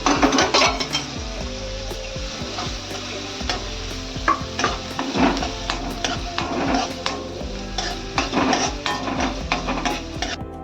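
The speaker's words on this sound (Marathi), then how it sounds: "आता कांदा चांगला थोडा लाल होईल तर भाजायला पाहिजे." Onions frying in a pan, with a continuous sizzle under repeated scraping and clinking of a stirring utensil against the metal, close and busy, no speech.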